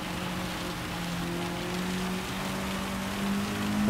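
Heavy rain hissing steadily during a race in Gran Turismo 7 at Tsukuba, with a low car engine drone running underneath and the downpour building slightly toward the end.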